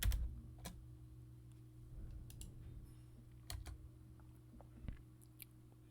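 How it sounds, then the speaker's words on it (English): Typing a password on a computer keyboard: sparse, quiet key taps and clicks spread across a few seconds over a low steady hum, with no talking. "We're going to go ahead and send Control-Alt-Delete and type in the password."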